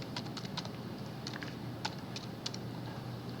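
Computer keyboard keys tapped in short irregular bursts while an IP address range is entered, faint clicks over a steady background hiss, no talking.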